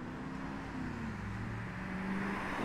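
A Subaru STI pulls up at a cars and coffee meet, its engine giving a steady, fairly close low drone that swells slightly toward the end over light outdoor background noise.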